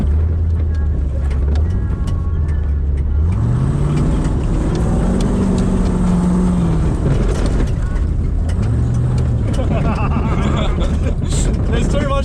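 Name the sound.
car engine clunking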